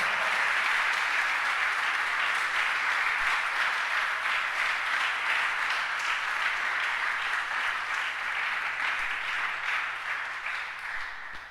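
A church congregation gives strong, sustained applause during a sermon, a dense wash of many hands clapping that stays loud throughout and eases slightly toward the end, with no talk over it.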